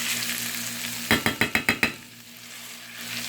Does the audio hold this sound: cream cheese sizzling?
yes